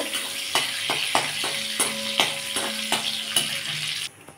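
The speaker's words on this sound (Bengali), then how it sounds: "ফোড়নটা আমার ভালো করে ভাজা হয়ে গেছে" Dried red chilli and nigella seeds frying in hot oil, a steady close sizzle with sharp spatters and regular scraping stirs, ending abruptly.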